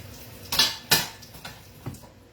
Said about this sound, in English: It's a great little stir fry pan.